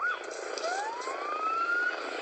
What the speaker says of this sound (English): we now have a helicopter going overhead and a police car going nearby